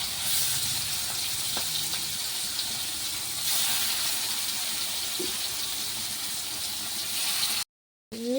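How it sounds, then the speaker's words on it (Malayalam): Fish frying in a pan in a home kitchen, a steady hissing sizzle heard throughout at moderate volume, with a brief silent gap near the end. "അവിടെ മീൻ പൊരിക്കുന്നുണ്ട് കേട്ടോ"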